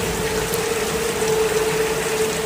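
Steady rushing, trickling water of a small stream in heavy rain beside a mountain hiking trail, a continuous dense wash with a faint tonal hum underneath, close and fairly loud, with no voices.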